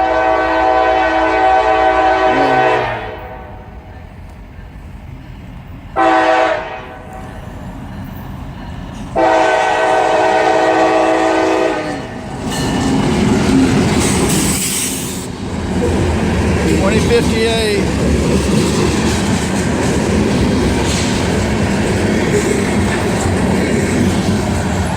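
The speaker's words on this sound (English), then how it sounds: "here comes our train." A train passes by with long, loud horn blasts broken by short pauses, followed by a rolling rumble and clatter of railcars that carries on steadily, close and strong.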